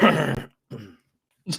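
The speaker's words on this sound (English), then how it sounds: "just clear your throat, dude" A man clears his throat in three short rasping bursts separated by brief silences, close and dry, with the last burst sharper.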